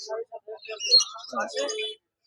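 Parrotlets and conures at a pet bird market give a short burst of bright chirps and tweets, a few quick calls then overlapping squawky chatter, close and moderately loud for about two seconds.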